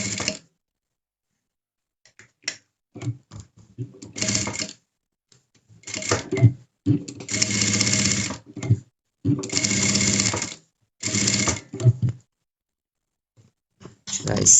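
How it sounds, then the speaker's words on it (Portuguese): A sewing machine stitches fabric around the edge of a cup-and-saucer project in several short bursts separated by quiet pauses, whirring close and fairly loud. "E vamos costurar toda a volta."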